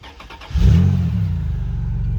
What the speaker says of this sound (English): Crank that baby up!